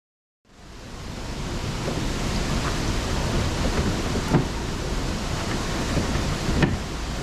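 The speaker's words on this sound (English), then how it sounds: "It's absolutely pissing down with rain, the wind blowing" Heavy rain and gusting wind at a lock on the Crinan Canal, a loud, unbroken hiss of downpour rising quickly after a brief silence, with a few dull knocks inside the roar.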